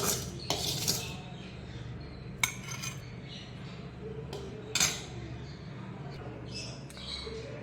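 Metal utensils clink against a steel mixer jar as sautéed onions are scooped in for chutney: a few sharp, bright clatters spread through a quiet kitchen, with a soft steady background hum.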